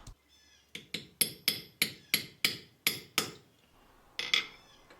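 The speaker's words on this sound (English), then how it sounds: "I'm using the side of the hammer because the face is polished for hammering the jewelry." Sharp metallic hammer strikes drive a chisel into a nearly pure gold engagement ring, struck with the side of the hammer while forging prongs; about nine clear, evenly spaced taps followed by a brief pause and two closer final hits, heard alone.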